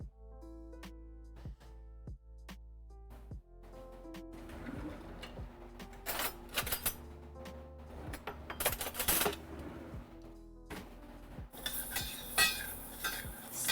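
A spoon scraping and clinking against a pan while stirring rice for pork belly adobo, irregular metallic taps and scrapes close by, getting busier and denser toward the end.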